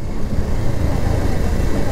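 Fast bikes and auto-rickshaws stream along a busy road, a continuous low engine rumble and passing traffic with no distinct single vehicle standing out.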